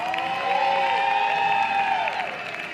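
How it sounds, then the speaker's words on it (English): A crowd at an annual oyster roast applauds steadily for several seconds, dense clapping mixed with whoops and cheers, loud and close throughout. "How about a round of applause for Blake, Martha, and Team Island House Restaurant?"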